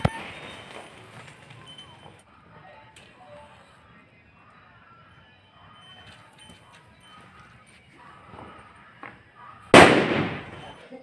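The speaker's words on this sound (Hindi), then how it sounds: "सूतली बम छोड़ दिया है" A sutli bomb firecracker set off during Diwali, one sharp loud bang near the end that follows a stretch of quiet background noise and faint distant sounds.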